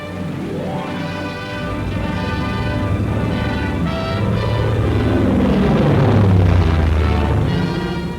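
Propeller cargo planes of the American Transport Command drone loudly in a continuous engine roar that swells toward the end, heard alone on an old wartime recording.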